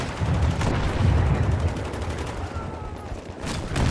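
Tank cannon and surrounding gunfire in Battlefield 3 combat, a loud heavy boom followed by dense rumbling explosions and rattling shots, with a player's voice speaking over the battle.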